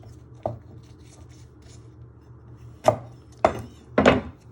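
Knife trimming the ends of garlic cloves on a cutting board: one soft tap, a pause, then three crisp close thunks in quick succession, no talking.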